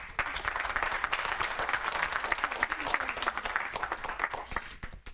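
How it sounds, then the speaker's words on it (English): An audience at a board of education meeting applauds newly elected and reelected board members, a dense, steady round of clapping that fills the room for several seconds. "We can give them a round of applause and welcome to the board."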